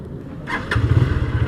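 A Runner Bolt motorcycle nearly out of fuel restarts, a short cranking noise catching into a close, low, chugging idle that grows louder toward the end.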